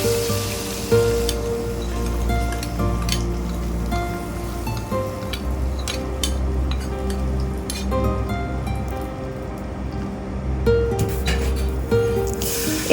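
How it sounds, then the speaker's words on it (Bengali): A hot tempering mixture poured over taro corms with hilsa fish head sizzles and spits in a continuous crackling hiss, with scattered sharp pops and light clinks of cookware. "এখন এই বাগার দেওয়া মিশ্রণটা আমি কচুতে ঢেলে দিলাম।"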